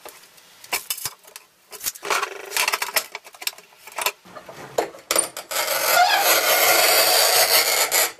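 A Megix 600 manual tile cutter works across a tile, producing close scraping and rasping strokes in uneven bursts that settle into a sustained grinding scrape near the end.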